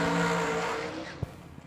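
A dragster at a New Year Nationals drag race roars loudly and close at first, then fades as it speeds away down the strip, with a faint thump near the end.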